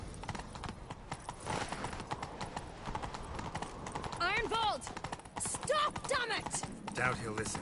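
Horse hooves clip-clopping in a fast, steady rhythm during a chase in The Witcher video game, with a whinny and game voices speaking over the pounding gallop.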